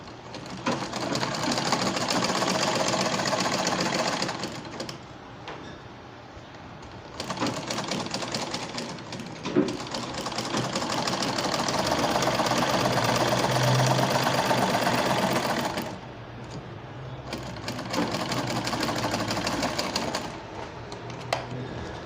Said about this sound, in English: then you sew by 1/2 an inch